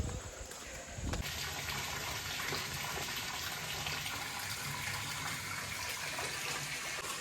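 Water flowing down from a hill into stone wells at Trimbakeshwar, the source of the Godavari river; a steady, close rushing and splashing of water that runs without a break.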